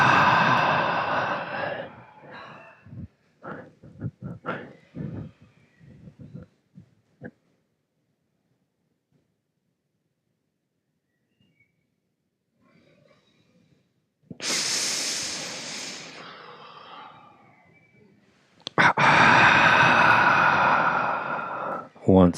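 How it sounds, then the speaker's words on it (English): Forceful yoga double breathing, heard as two long, loud rushes of breath separated by near silence, after an opening stretch of voice and breathy sounds. "then inhale up, double breathing"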